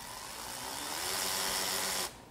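Makita XRW01 18-volt cordless ratchet running slowly on its variable speed trigger, a close, steady whirring motor sound that stops abruptly at the end.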